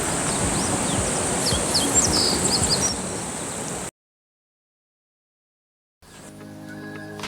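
A meadow bunting sings short, high chirping phrases over steady outdoor ambience, faint to moderate, before the sound cuts to silence and then returns to quieter background.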